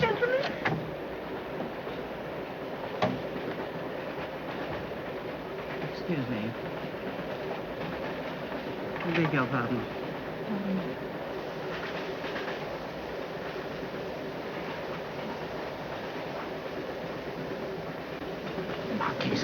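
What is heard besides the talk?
train running on rails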